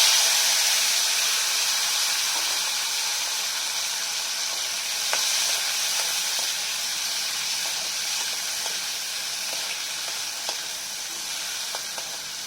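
Chopped tomatoes fry in a pan of mustard-oil tempering for a mustard fish curry, giving a loud, steady hissing sizzle that fades only slightly over time, with a few faint clicks and no talking.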